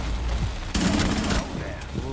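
Gunfire in a first-person shooter video game, one sharp rapid burst of shots lasting under a second, loud and close over a noisy game background with someone talking around it.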